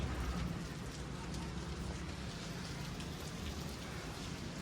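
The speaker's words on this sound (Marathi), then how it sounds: "इकडे बघू शकता फुल पाऊस चालू आहे जोरात." Dense, steady roar of heavy rain pouring down outside a restaurant, a constant wash of noise with no pauses.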